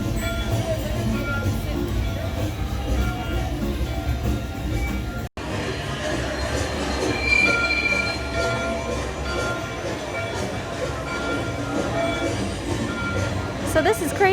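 Railroad ride cars at Hollywood Studios theme park run on their track with a steady, loud rumbling roll and faint clatter throughout, broken by one brief dropout partway through.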